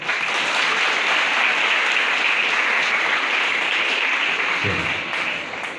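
An audience claps for students at a Government Girls High School celebration in Vadakkanchery honouring exam results. The applause is dense and sustained for several seconds, then tapers off near the end.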